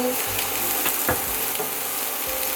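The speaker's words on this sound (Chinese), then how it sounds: "姜炒到有一点变色，就可以加红萝卜， 稍微炒一下。 加入香菇，" Ginger, carrots and shiitake mushrooms stir-fried in a wok, giving a steady close sizzle with a few scraping and clattering stirs of the spatula, no voices.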